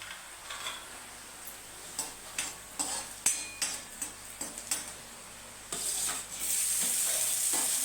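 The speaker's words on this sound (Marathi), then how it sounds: "त्याच्यात टाक टाकलं टमाटर टमाटर कांदा मस्त मिक्स करून घ्यायचा" Tomato and onion stirred and fried together in a pan for a home-cooked vegetable dish, with a low sizzle broken by a run of sharp spoon scrapes and clinks against the pan, then a louder hiss near the end.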